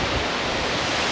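Waterfall in the Nahatlatch Valley, a close, loud and steady roar of rushing water that fills the whole scene without a break.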